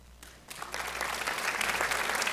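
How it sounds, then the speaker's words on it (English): A crowd breaks into applause that quickly builds and continues as dense, steady clapping. "I do want to give an applause to Rosita."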